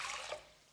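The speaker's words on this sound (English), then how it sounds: "This is just tap water." Tap water pours into a pan holding oatmeal, a short, soft hissing splash that fades out within a second, with no talking over it.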